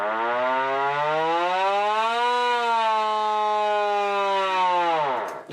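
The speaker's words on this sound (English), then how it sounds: "Air raid siren? They make a hell of a noise." A vintage air raid siren sounds loud and close, its harmonic wail rising then holding steady before winding down at the end, with no voices over it.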